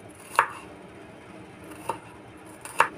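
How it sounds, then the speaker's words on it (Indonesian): A knife chops red chilies, garlic and shallots on a cutting board, three sharp, separate knocks spaced apart against a quiet kitchen background. "Bumbunya ini saya mau potong-potong dulu karena saya mau"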